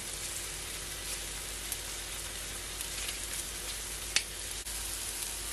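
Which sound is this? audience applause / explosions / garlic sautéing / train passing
garlic sautéing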